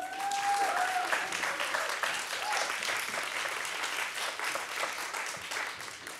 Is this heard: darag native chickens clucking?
no